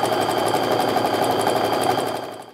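A sewing machine stitches quilt fabric strips together, running in a steady, fast, close mechanical whir with rapid rhythmic needle clatter that slows and stops at the end.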